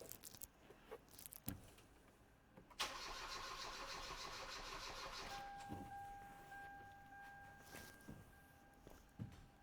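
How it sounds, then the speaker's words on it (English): A Hyundai Veloster Turbo that cranks but won't start, its starter spinning the engine over in one sustained cranking burst after a few clicks and knocks, with a faint steady whine partway through. "Let's crank it over."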